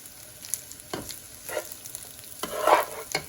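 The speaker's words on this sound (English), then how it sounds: "I'm gonna go ahead and combine that into the rice." Fried rice being tossed with sesame oil in a pan, a spatula scraping and stirring in a few separate strokes over a soft, steady sizzle, fairly close and moderately quiet.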